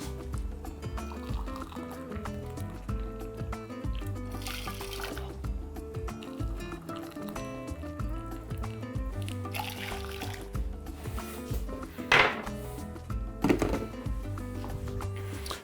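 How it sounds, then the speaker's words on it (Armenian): Two cups of boiled water poured into a small pot, a steady liquid splash and trickle lasting throughout at moderate level, partly buried under a busy tonal background. "երկու բաժակ եռացրած ջուր ենք լցնում"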